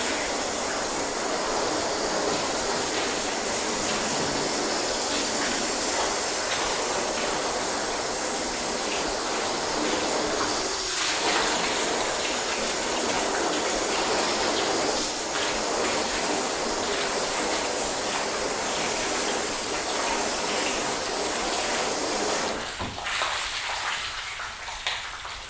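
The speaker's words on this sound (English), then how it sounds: "Let's go ahead and rinse this down." A water hose rinses down a freshly washed car, giving a steady, broadband spray hiss that runs unbroken at close range with no talk, then drops off briefly near the end.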